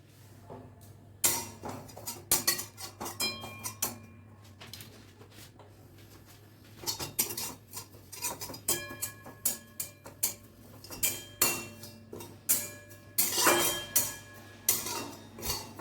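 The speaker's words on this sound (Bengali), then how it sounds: "কসুরি মেথি একটুখানি গুঁড়ো করে দেবো বলে একটু কড়াইতে নেড়ে নিচ্ছি" A spatula stirs and scrapes dried kasuri methi in a kadai pan, giving irregular metallic clinks and taps at close range over a low steady hum, with no talking.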